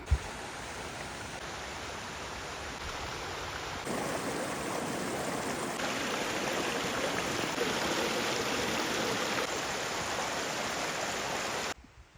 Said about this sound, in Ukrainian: Чую воду. Можливо, це десь водоспад поряд.